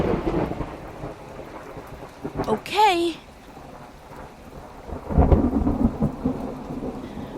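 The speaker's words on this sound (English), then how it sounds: "He flicked his tail again and the thunder crackled overhead." Thunder crackles and rumbles overhead during a rainstorm, with a steady hiss of rain beneath it, a second roll building later, and a voice speaking briefly in between.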